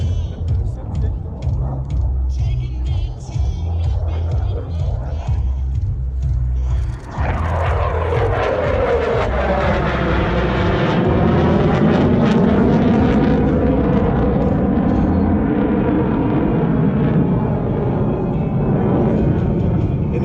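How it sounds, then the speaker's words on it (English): An F-16 Fighting Falcon jet at an air show, accelerating hard through three aileron rolls, its loud roaring engine surging and sweeping in pitch as it passes, under continuous public-address commentary. "you will accelerate rapidly and snap the Fighting Falcon through 3 aileron rolls"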